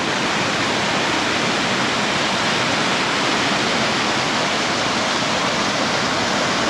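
Water rushes steadily at a homestay in Chikmagalur, a dense, continuous flowing roar that stays even and close throughout with nothing else over it.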